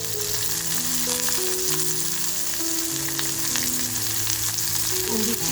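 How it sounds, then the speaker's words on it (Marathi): Garlic, green chili and onion fry in hot oil with a loud, steady close-up sizzle that runs unbroken, with faint stirring underneath. "तेल छान तापले लसूण जी टेचून घेतली आहे ती लसूण टाकते अगोदर त्याचबरोबर मिरची टाकतीये थोडासा कांदा टाकते"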